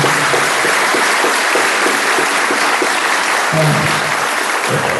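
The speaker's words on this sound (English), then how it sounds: "Please give a round of applause" Audience applause at a school district foundation event, loud and continuous throughout, dense clapping with a few faint voices underneath.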